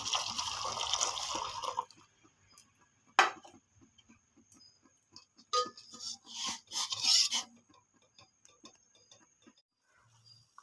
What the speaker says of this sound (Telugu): చూడండి నాన్న, డికాషన్ అలా మరుగుతుంది కదా.